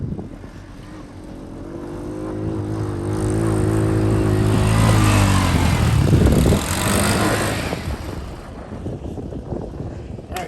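A 2023 Tao Motor Baja Sport 200 motorcycle engine revs up and drones loudly, with pitch climbing and then easing off amid heavy wind buffeting on a ride.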